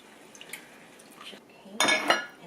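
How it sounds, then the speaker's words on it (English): Half and half poured into a pan while being stirred: a quiet stretch, then a short burst of liquid splashing with utensil scrapes and clinks near the end. "we're going to go ahead and add our half and half, stirring it at the same time"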